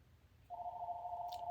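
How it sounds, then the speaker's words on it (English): A telephone ringing indoors, a single steady electronic tone starting partway in and holding, moderately loud against a quiet background hum, with no talk. "Phone's ringing."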